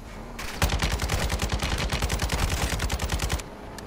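Light machine gun in Call of Duty firing a long sustained burst of rapid, evenly spaced shots, loud and close, with no talk over it.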